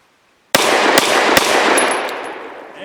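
Remington RP9 pistol firing 65 grain Liberty Civil Trainer ammunition outdoors: three sharp, loud shots in quick succession after a brief silence, each followed by a long ringing echo that fades slowly.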